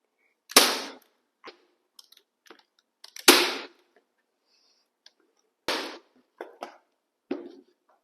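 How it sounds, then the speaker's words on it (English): A stapler snaps through folded burlap fabric for punch needle work, giving several sharp, close clacks spaced a second or two apart, with small clicks and rustles in between and quiet otherwise. "So you need to fold and take your stapler"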